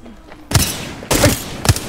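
Gunfire in the video game Apex Legends: three loud, sharp bursts of shots, each a short volley, spaced roughly half a second apart after a quiet start.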